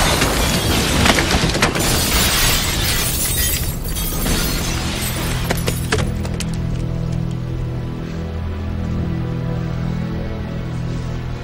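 Gunfire sets off methane gas in a facility, a loud roaring blast with shattering debris that stays intense for several seconds before settling into a long, heavy rumbling tail.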